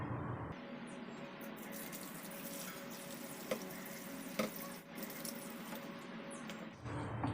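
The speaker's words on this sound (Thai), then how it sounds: "ใช้น้ำร้อนเดือดจัดๆลาดลงบนตัวยา ให้ท่วมเลยนะคะ" Boiling hot water poured over herbal medicine roots for a Thai five-root remedy, a steady close splashing pour that runs for most of the clip, with a few small clinks and no talking.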